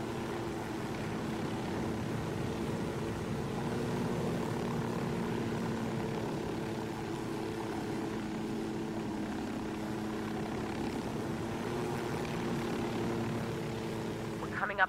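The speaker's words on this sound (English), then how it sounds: "Alright, let's go put this chopper down here." Steady, droning helicopter rotor and engine hum in the Ghost Recon Wildlands video game, continuous and moderately loud for the whole stretch with little change in pitch.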